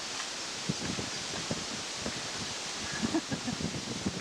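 Wind gusting through leaves beside a lake in France's Champagne region, a steady broadband rustle with soft, intermittent swells, fairly faint and with no voices.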